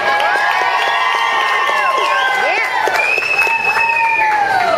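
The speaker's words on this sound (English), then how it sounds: "Let's give a round of applause" A loud outdoor crowd cheers, whoops and applauds volunteers who worked through heavy rain, a steady wall of many overlapping voices lasting the whole stretch.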